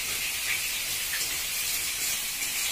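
Chicken cooking in a pan on a gas stove at home, giving a steady, even hiss and sizzle that holds constant throughout with no talk over it.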